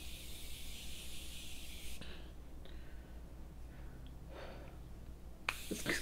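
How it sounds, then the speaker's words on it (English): Morphe setting mist sprayed in a steady hissing burst for about two seconds, close up, followed by quiet handling noises and a brief clatter at the end. "I'm gonna grab my Morphe setting mist and give myself a spritz here."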